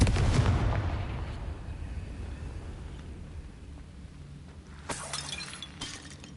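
A fiery Confringo blasting curse strikes in Hogwarts Legacy on PS4 with a loud shattering, explosive crack that fades into a long rumbling decay, then a second, smaller burst of debris arrives near the end.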